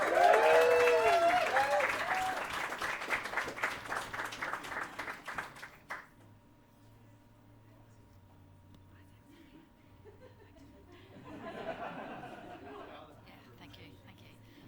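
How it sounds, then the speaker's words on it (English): An audience at a live music awards night in Adelaide breaks into loud, full applause that dies away after about six seconds, leaving quiet room murmur before a brief swell of crowd chatter and laughter. "Give Tiff a round of applause if you can."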